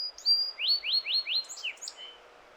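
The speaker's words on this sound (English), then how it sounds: "Song sparrows are singing" Song sparrows sing in a spring forest, with a bright run of repeated rising chirps and trills followed by a few looser notes, moderately close and with no voices.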